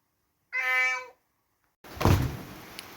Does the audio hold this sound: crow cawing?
no